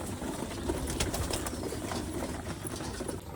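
Fancy pigeons coo and stir in a loft, a steady dense murmur of birds close by with occasional soft wing flutters throughout, no speech.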